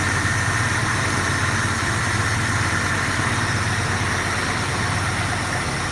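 A small engine idles steadily before being run dry of fuel, a continuous close, loud mechanical hum with a steady low rumble and no break for the whole stretch, no voices over it.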